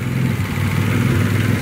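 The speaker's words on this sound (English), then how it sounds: "it's idling better" Car engine with several vacuum leaks idles after a throttle cable adjustment, a steady low rumble close by with a faint hiss above it.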